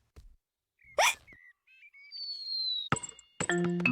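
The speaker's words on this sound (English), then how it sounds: "please stop hiccuping" Cartoon hiccups, a few sharp isolated hiccup sounds spaced apart among brief squeaky effects and short tonal chirps, with quiet pauses between them.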